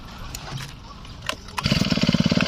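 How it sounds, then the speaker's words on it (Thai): A few tugs on a pull-cord, then a small used Japanese Honda brush cutter engine sputters to life and settles into a fast, rattling idle. "อาลองดึงฮอนด้าดู"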